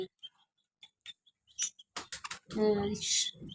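Pet birds in a cage give short, sparse chirps and tweets at close range, with a person talking over the latter part.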